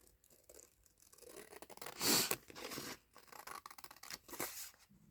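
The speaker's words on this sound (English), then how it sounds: "let's cut this out real quick" Scissors cut out paper in a few short close snips and crisp slicing rustles, with one louder burst midway, quiet overall and with no talking.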